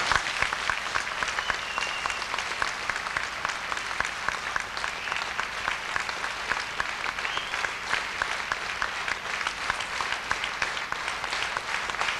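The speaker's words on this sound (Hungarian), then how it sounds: "egy tapsot kérek minden szerető számára." A festival audience claps throughout, dense sustained applause from a large crowd in a hall, steady and loud for the whole stretch with no talk over it.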